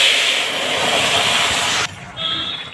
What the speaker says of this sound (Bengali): এবার আমি তরকারিটা ঢেলে দেব।